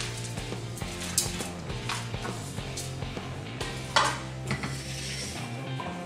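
A spoon stirs and scrapes a sticky mixture of dates, figs and dry fruits in a pan, with soft clinks and a faint sizzle, a few sharper knocks against the metal.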